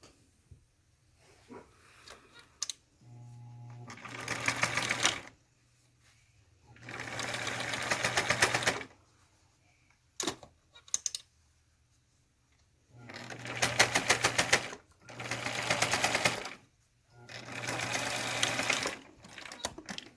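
A sewing machine stitches elastic into a fabric face mask in five bursts of rapid, even mechanical whirring, each a second or two long and separated by quiet pauses, close and clear with no talk.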